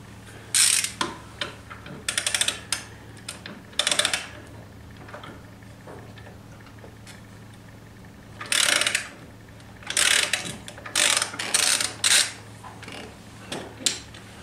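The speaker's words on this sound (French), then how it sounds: "éventuellement comme nous un cliquet équipé d'une douille de 17" Ratchet with a 17 mm socket working a variator nut on a Nitro/Aerox scooter, giving bursts of rapid metallic clicking in several separate runs with quiet gaps between them, close up and alone.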